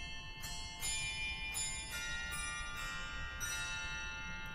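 Bells on a church chancel organ at National City Christian Church in Washington DC ring as a series of bright metallic strikes with long sustained, shimmering tones that overlap and ring on steadily.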